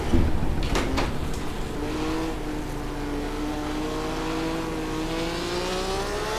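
Formula 1 car driven around Goodwood in a racing game, a few sharp bursts up front, then a high engine whine rising steadily as the car accelerates, loud and continuous under game ambience.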